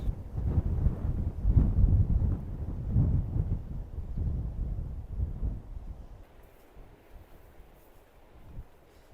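Gusty wind on a coastal walk on the Isle of Wight, heavy low buffeting across the microphone that eases after a few seconds into a lighter rush.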